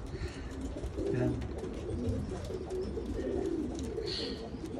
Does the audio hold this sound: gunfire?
no